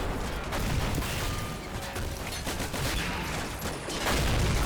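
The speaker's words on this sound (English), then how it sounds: "lots of gunfire going off here" Rapid, dense gunfire crackles continuously through a war video game battle with tanks and advancing soldiers, a busy fusillade of overlapping shots with no voices.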